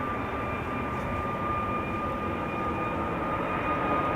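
Ryanair jet departing Amsterdam Schiphol Airport, a loud, steady engine roar with a sustained whine that holds level from start to finish, heard close and alone.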